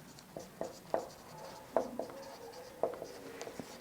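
A pen or marker writes notes during a chemistry lesson, giving short scratchy strokes and taps in an irregular rhythm, close and fairly quiet.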